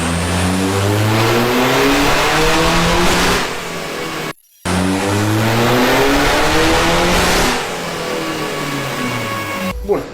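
A car engine on a dyno fueled with Rompetrol FX55 diesel revs hard in two long, loud sustained pulls, rising in pitch each time, separated by a brief silent cut, then settles to a lower steady drone.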